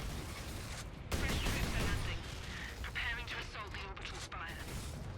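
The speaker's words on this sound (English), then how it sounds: "Headshots will take those guys out in one shot with the las cannon." Lascannon fire and battle noise from the Warhammer 40,000 Space Marine video game form a dense, continuous barrage of blasts, with a voice speaking over the din.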